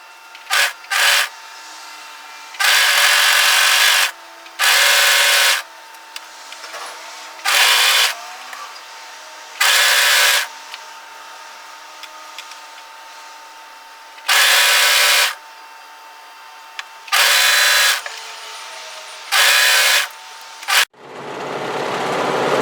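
An overlocker serges elastic onto the wrong side of fabric for a wrap-front bodysuit, running in repeated loud bursts of rapid mechanical whirring separated by brief pauses, with a final thud at the end.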